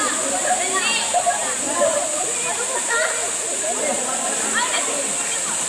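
Kawasan Falls pours steadily in a constant broad rush of falling water, with people chattering over it and a faint wavering tone in the background.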